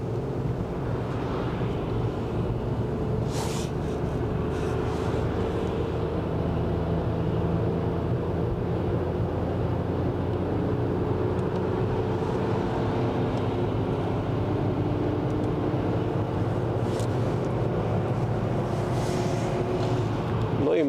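A 2015 Skoda Fabia Kombi with a 1.0 MPI 75 hp engine accelerates at full throttle, a steady droning engine and road roar with wind noise heard from inside the car, unbroken for about twenty seconds.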